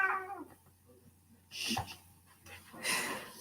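A cat meows indoors, with a short cry at the start followed by two longer, breathy caterwauling calls, fairly close and with no talk over them.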